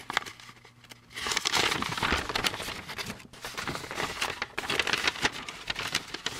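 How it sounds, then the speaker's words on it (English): Paper instruction sheet from a 1964 Ford Galaxie 500 XL plastic model kit being unfolded and handled, close crinkling and rustling in uneven bursts over several seconds, with no talk. "rustling paper."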